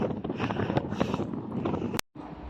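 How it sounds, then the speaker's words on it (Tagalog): Strong wind buffets the microphone on a high bridge, a loud, ragged roar with gusty surges that cuts out abruptly for a moment near the end before returning. "Lakas ang hangin"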